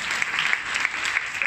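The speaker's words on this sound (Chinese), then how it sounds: "掌声送给你们，谢谢大家。" Steady applause from an audience at a Buddhist hymn concert, a dense even patter of many hands with a few sharper claps, filling the space without voices on top.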